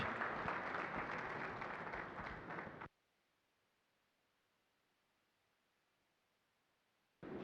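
Orchestra audience breaks into applause in a large hall after a performance, a loud dense clapping for about three seconds that cuts abruptly to silence before returning briefly at the end.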